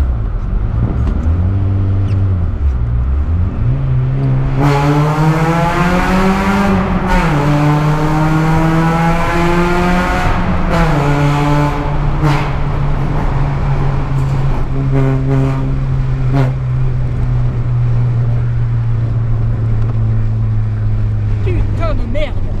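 A Peugeot 106 engine revs hard through several rising and falling sweeps, loud and close, with a raspy note likened to a Honda Civic, before settling into a steady idle-like drone; a voice speaks briefly near the start.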